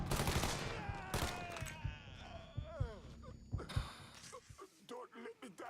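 Gunfire in the Mafia III video game, scattered loud shots and short bursts early on, mixed with shouting voices and game sound, thinning out as talk takes over toward the end.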